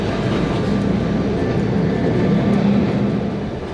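Steady low rumble of a moving train heard from inside a carriage on a scenic mountain ride to Zermatt, Switzerland, with continuous rattling and a faint whine, no voices.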